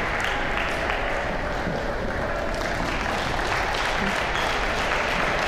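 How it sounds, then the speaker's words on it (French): Two sitting volleyball teams applaud each other across the net at a men's European championship match, a dense, steady wash of clapping filling the hall from start to finish. "les deux équipes qui s'applaudissent mutuellement de part et d'autre du filet"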